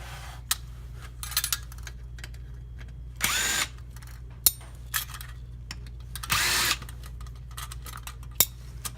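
A power driver works screws out of a Toyota Prius MFD and navigation unit housing in short separate bursts, with small ticks and clicks from handling the parts between runs.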